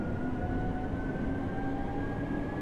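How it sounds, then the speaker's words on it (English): A train runs in the Train Drive ATS simulator game, producing a steady, close rumble with a sustained motor whine that stays even throughout, with no voices. "This is the last stop of this train."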